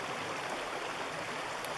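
Dead Creek, a small creek near a ghost town, flows in a steady, even rush of water with no voices and no breaks.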